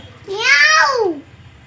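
A young child gives a single drawn-out, rising-then-falling meow, imitating a cat, close and fairly loud.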